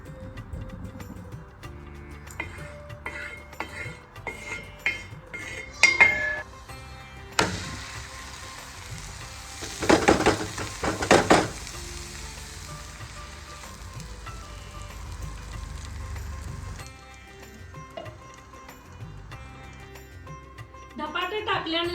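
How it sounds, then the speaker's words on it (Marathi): Dhapate, a Maharashtrian flatbread, hits hot oil on a tawa with soft crackling sizzles that swell into a brief louder burst of frying before settling, with a voice talking at times. "आपण त्यामध्ये थोडं तेल घालूया आणि हे थापलेलं त्याच्यावर घालून घेऊया"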